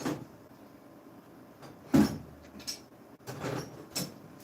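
A drawer in a blacksmith shop slides open with a soft scrape and a couple of thumps and rattles of its contents, fairly quiet and close, with no talk.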